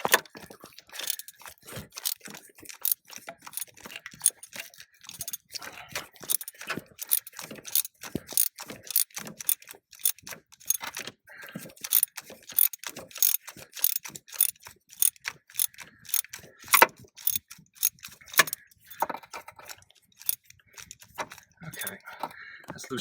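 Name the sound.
ratchet loosening spark plug on Subaru EZ30 H6 engine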